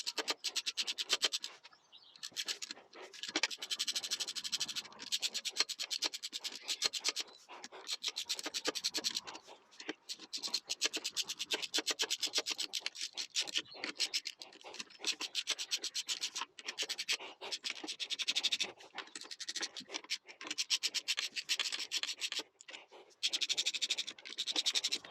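Close, quiet scraping and rubbing from a tool working on the clutch spring screws of a motorbike, coming in irregular bursts with short pauses between them.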